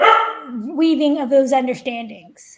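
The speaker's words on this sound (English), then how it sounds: "sorry for the dog in the back" A dog barks in the background of an indoor conversation, a few sharp barks and yips early on, heard under a person speaking close by.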